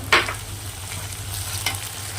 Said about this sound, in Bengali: যে তেলে মুড়ো ভেজেছি তো সেই তেলেই আমি কপি ভাজছি